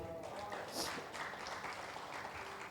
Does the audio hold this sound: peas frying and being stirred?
no